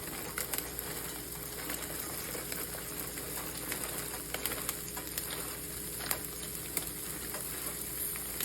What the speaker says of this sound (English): Then you're gonna stir and cook until the vegetables cook.